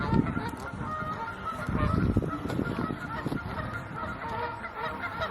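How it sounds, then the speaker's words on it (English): A flock of Canada geese in Nebraska honks repeatedly, a dense overlapping chorus of loud calls with some nearby and others farther off, against open outdoor ambience. "a lot of Canada geese"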